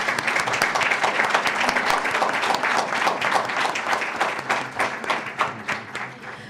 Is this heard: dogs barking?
no